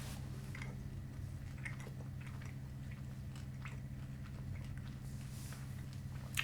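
Crunchy bubblegum with seed-filled candy shells being chewed, soft irregular crunching bites close to the mic over a low background hum.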